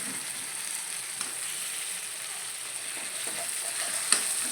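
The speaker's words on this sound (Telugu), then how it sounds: "టమాటాలు వేసుకొని ఇంకోసేపు వేగనియాలి" Bitter gourd, onion and tomato frying together in a pan, a steady moderate hiss of sizzling with occasional light clicks and scrapes of stirring, ending in a couple of sharper taps, no speech.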